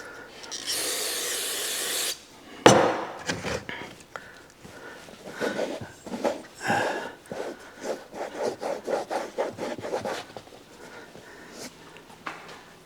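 A worn-out boot is rubbed down with a towel, a burst of spray-like hiss first, then a series of brisk, scratchy wiping strokes in an uneven rhythm, close up.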